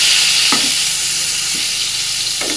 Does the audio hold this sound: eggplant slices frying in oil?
yes